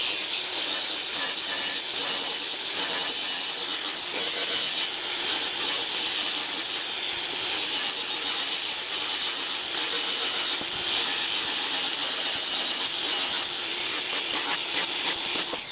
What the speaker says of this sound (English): that's a good grinder